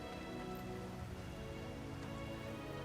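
Crops being watered in the video game Final Fantasy 16, a soft, continuous patter and hiss of falling water, faint and even throughout, with no talking.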